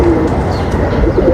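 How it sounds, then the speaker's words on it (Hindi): A female golden pigeon coos softly and close by, a low throaty warble repeating over a steady background. "ये गोल्डन कबूतरों में से मादी है"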